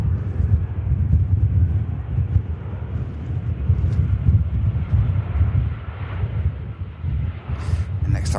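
A TAP Air Portugal airliner at Manchester Airport makes a steady, broad jet roar heard from a distance, mixed with wind buffeting the microphone.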